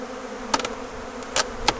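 Honey bees buzz around an opened hive during an inspection, a faint steady hum with a few brief, louder buzzes as individual bees pass close by.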